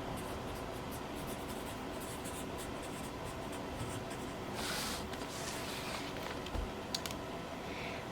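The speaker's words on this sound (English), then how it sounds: "I have to write all of this stuff down because it's also part of our documentation" Pen moving over paper as notes are written by hand, a soft continuous scratching and rubbing, faint and close with small pauses and a few light taps.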